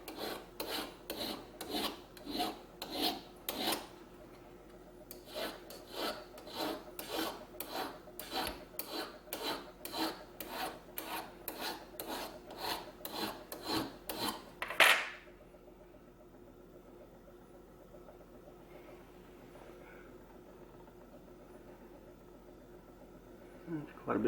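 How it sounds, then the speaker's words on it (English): A fine file rasps over the blade of a folding pocket knife during repair, close up in fast rhythmic strokes, a run of about eight, a pause, then a longer run of roughly twenty, before quiet settles with faint handling noise. "You don't want to use too coarse of a file with this"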